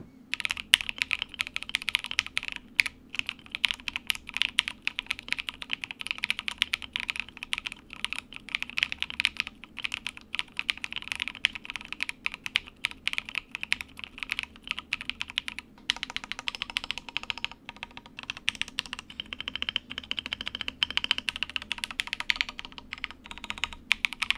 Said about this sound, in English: I will be showing you guys a typing test of how this keyboard sounds like